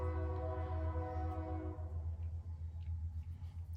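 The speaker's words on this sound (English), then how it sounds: "Sorry about the train." A train passes at a distance, its horn sounding a steady chord for a couple of seconds before cutting off, leaving a low rumbling roll that continues on its own.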